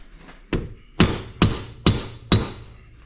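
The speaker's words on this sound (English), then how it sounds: "So rubber mallet." A rubber mallet taps a hand guard onto a Can-Am Outlander handlebar: five firm, evenly spaced thuds about half a second apart, close and dull, with no talk.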